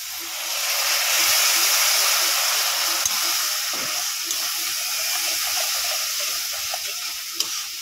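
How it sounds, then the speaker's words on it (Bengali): A little water poured into masala that is frying with cumin powder lifts a loud, steady hiss and sizzle, close and continuous, with faint stirring under it and no talking. "অল্প একটু জল দিয়ে দেবো।"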